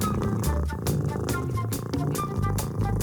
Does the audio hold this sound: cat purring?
yes